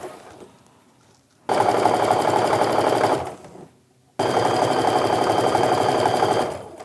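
A sewing machine stitches fabric strips for a Christmas quilt, running in two loud, rapid rattling bursts of about two seconds each with a short quiet pause between.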